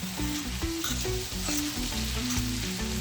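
Jamaican bully beef and macaroni being stirred in a pot, a continuous sizzle with rhythmic scraping stirs up close and no one talking.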